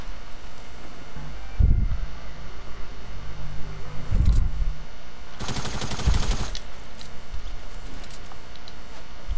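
Bursts of tactical SMG fire in a video game, with a couple of short low-thumping volleys and one denser rapid burst midway, over a steady background hum.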